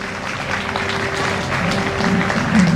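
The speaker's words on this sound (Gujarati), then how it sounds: "તો એના માટે આપણે તાળીઓ બંધ થવી જ ન જોઈએ." Sustained applause from a large audience at a Hindu religious discourse gathering, a steady wash of many hands clapping that swells slightly toward the end, with a faint hum underneath.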